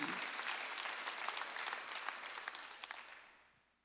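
A church congregation at a Sunday worship service applauds, a dense, roomy wash of many hands that holds steady and then fades away.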